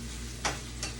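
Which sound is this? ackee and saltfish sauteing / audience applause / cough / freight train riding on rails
ackee and saltfish sauteing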